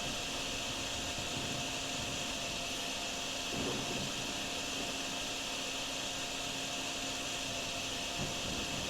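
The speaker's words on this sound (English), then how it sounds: "I'll come through here and vacuum some of this up." A wet-dry vacuum sucks up standing water in the drain-cleaning video game Drain Sim, giving a steady, loud broadband roar that holds constant throughout with no talking.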